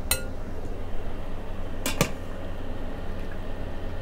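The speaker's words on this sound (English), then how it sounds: "I'm going to remove the beef from the pot" Utensils clinking against a cooking pot as cooked beef is lifted out, a few sharp metallic clanks over a low steady hum, close and distinct.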